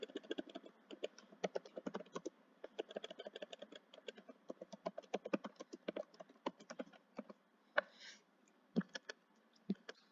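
A computer keyboard is typed on in quick, uneven bursts of soft clicks, quiet and close, with a few louder key taps near the end.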